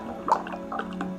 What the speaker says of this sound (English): We're just gonna pour that into this bottle.